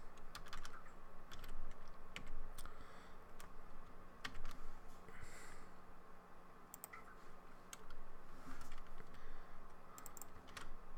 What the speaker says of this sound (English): I'm going to type a.brand-logo.